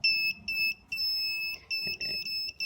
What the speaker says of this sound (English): this is a little buzzer